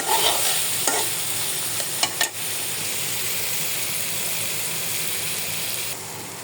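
Leftover meat being reheated and stirred in a frying pan for a bhuna-style dish, with a steady close sizzle and hiss. A few scraping stirs of the spatula come early, then the frying continues evenly on its own.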